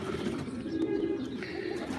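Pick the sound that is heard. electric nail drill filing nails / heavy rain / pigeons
pigeons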